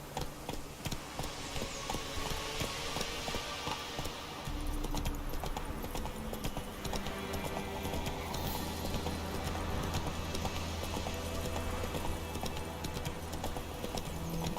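Horse galloping in The Witcher 3: Wild Hunt, a steady, loud run of hoofbeats throughout, heard close and continuous over game music and ambience, with a low sustained tone entering partway through.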